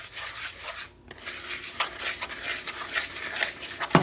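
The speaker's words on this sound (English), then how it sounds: "Give it a stir." A crumble mixture with melted butter is stirred in a bowl, giving close, soft scraping and rubbing strokes in an uneven rhythm, with a few brief clinks.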